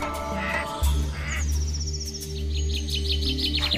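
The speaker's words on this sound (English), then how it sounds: "A duck." A duck quacks in a few short, nasal calls over a steady low hum, with faint bird chirps mixed in, close and moderately loud.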